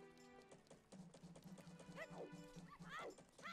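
A dog barks in The Legend of Zelda: Majora's Mask, a few rising yelps near the end over a steady, rhythmic clopping pulse and game music.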